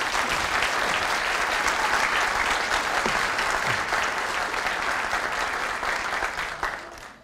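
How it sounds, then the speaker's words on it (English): An audience at a 2012 Walnut Creek police awards ceremony applauds for citizen heroes: a dense, steady wash of many hands clapping throughout, fairly loud and unbroken, fading slightly in the final half second. "about another round of applause for our citizen heroes?"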